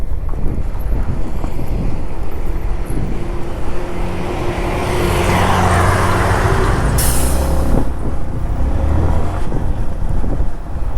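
A vehicle approaching along a rough off-road mountain road near Diskit, a steady broad rumble with wind buffeting the microphone, swelling louder toward the middle of the stretch, no talk over it.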